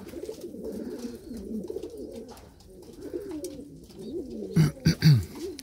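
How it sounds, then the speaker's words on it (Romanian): Pigeons or doves in an aviary coo repeatedly in soft, overlapping calls close by, with a few louder coos near the end and no talking. "Foarte frumoși păsări de la Evan"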